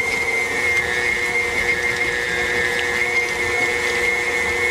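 An electric mixer whirs steadily at high speed while beating butter and cream cheese, a loud constant motor whine with a tonal hum and no pauses, no talk.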